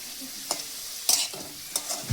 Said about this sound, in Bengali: একটু নেড়ে চেড়ে ভালো করে লাল লাল করে আলু কাটা ভাজবো।